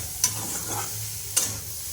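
Paneer bhurji frying in a pan with a steady low sizzle, broken by two sharp scrapes or stirring knocks about a second apart, no voices.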